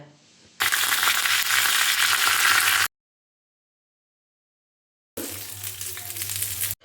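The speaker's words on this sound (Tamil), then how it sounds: "கடுகு, உளுந்த பருப்பு, கருவேப்பிலை போட்டு தாளித்து கொட்டிடுங்க." Mustard seeds, urad dal and curry leaves sputter and crackle in hot oil for carrot chutney tempering, a loud dense sizzle in two bursts separated by a silent gap.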